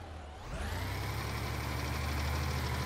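A fire engine's motor idles on a land-fire call, starting up from near silence into a steady, loud, even rumble with a low throb that holds for the rest of the moment, with no voices.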